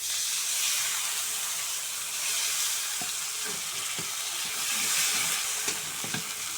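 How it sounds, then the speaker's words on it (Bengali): Curry sizzles and fries in a pan just after water is added, a steady broad hiss throughout with a few soft stirring scrapes and clinks near the end, no voices. "এই যে এটা লাল লাল করে একটু ভেজে নিলাম, তারপরে একটু জল দিয়ে দিলাম।"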